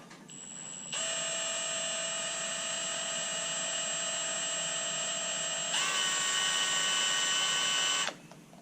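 A high, steady whine of a power drill running continuously during a snorkel install on a Coolster ATV, shifting pitch once partway through, then cutting off abruptly.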